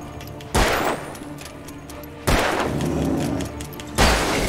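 Three heavy gunshots ring out in the video game Alan Wake, spaced about two seconds apart, each a loud, close blast with a long ringing decay over a quiet ambient background.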